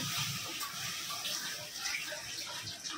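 Water pours into a cooking pan, a steady close splashing rush that runs for a few seconds alone, with no voices.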